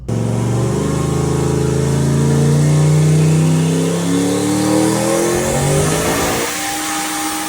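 A turbocharged 5.3-litre Mustang engine of over 1100 horsepower revs hard on a dyno and climbs steadily in pitch under full load, loud and close, then drops off as the throttle releases.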